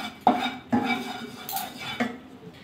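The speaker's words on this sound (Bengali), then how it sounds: "একটা খুন্তি দিয়ে কড়া চারিদিকে তেলটা লাগিয়ে নেব" A metal spatula scrapes and clinks around a hot wok coated with mustard oil, three or four sharp scraping strokes with faint sizzling between them, close and alone.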